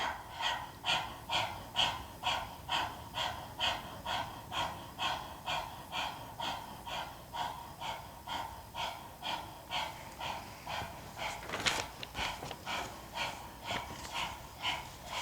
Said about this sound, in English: Keep panting.